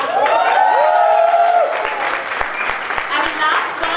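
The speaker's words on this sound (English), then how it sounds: "we should give them a big round of applause" Audience applause breaks out at a business school convocation, steady clapping from a large crowd under a voice talking over it at first, then continuing alone.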